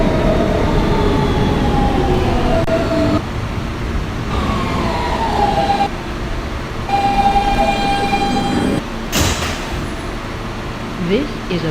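A Brooklyn-bound Kawasaki R160B Siemens R local subway train on the New York City line rumbles steadily, with rising and falling motor whines, a sharp brake squeal and clattering wheels; an onboard announcement voice speaks partway through.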